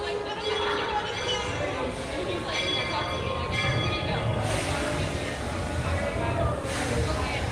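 Walt Disney World Magic Kingdom railroad train pulling red coaches, a steady rumbling roll with brief bell-like tones, heard amid crowd chatter and talk.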